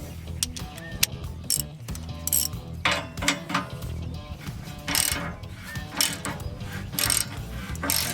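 A ratchet wrench works a 3/4 inch bolt loose from the front grill of a John Deere 450 series tractor, with rapid repeated clicking and metallic scraping, close and continuous.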